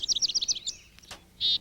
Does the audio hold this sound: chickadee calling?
yes